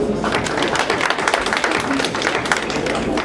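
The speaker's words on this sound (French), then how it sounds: "nous vous demandons déjà d'applaudir" A ceremony audience in a hall applauds for the Ivorian ambassador to the United Nations, dense, steady clapping from many hands filling the whole stretch.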